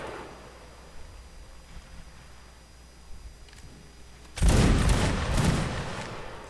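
Musket volley fire in the video game Mount and Blade: Napoleonic Wars, a line battle: after a quiet stretch with faint distant pops, a loud rolling burst of massed shots erupts close by and rumbles on to the end.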